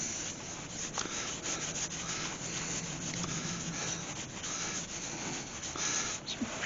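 A cloth rubs sanding sealer onto a turned resin and spalted yew lidded box, making a continuous close scratchy swishing with a steady rhythm throughout.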